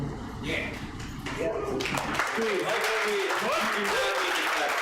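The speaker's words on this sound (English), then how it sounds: "I don't need pity claps." A meetup audience gives scattered applause, a few claps building into a steady patter, with a voice speaking over it.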